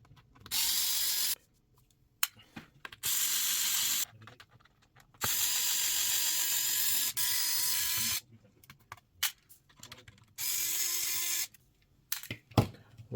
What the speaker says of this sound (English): what you're going to need is a T6 screwdriver, like I've got here, manual or electrical, and remove the screws